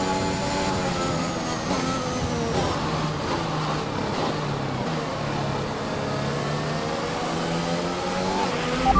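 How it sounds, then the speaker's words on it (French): McLaren Mercedes engine note: a loud, steady drone with layered harmonic tones that gently rise and shift, running continuously with no voices. "profiter un petit peu du bruit moteur de cette magnifique McLaren Mercedes."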